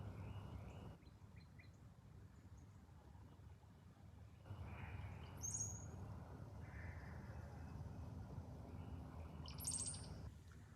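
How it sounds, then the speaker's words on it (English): Wild birds outdoors, with faint, sparse chirps and a soft call rising now and then over a quiet, steady background hush. "I heard a lot of birds,"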